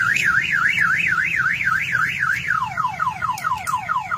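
A car alarm freshly installed on a Mitsubishi Montero blares close by, first in a rapid rising-and-falling whoop, then switching to quick repeated descending chirps, loud and continuous with no talking.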